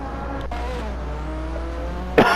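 Race cars in a Hot Wheels racing game hum along with a steady engine drone, ending in a sudden loud burst of screeching or impact noise at the close.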